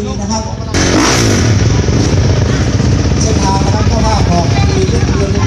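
A KTM enduro motorcycle engine revs loud and close on a rocky trail ride, starting after a brief quieter moment and then droning steadily with rising and falling throttle.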